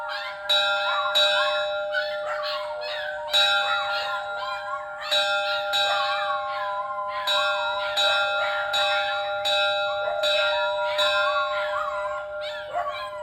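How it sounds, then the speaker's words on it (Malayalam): A church bell rings in steady repeated strokes while a dog howls in long, wavering cries between and over the chimes, both clear and fairly close. "മണി അടിക്കുമ്പം പട്ടി ഓരിയിടും"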